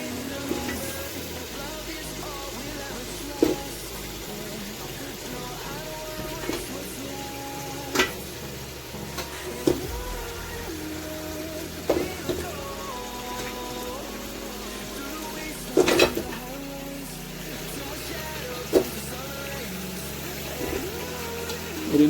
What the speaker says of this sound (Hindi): इनको मसाले के साथ तकरीबन 15 मिनट अच्छी तरह फ्राई करेंगे